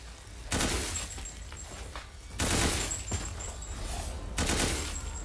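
Bursts of automatic gunfire in the video game Resident Evil Village, three loud sustained volleys a couple of seconds apart, each rattling close and dense with a high whining tone over it.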